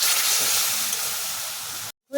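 A loud hiss of steam and sizzling rises as water hits frying spice paste in a pan, fading gradually before cutting off abruptly near the end.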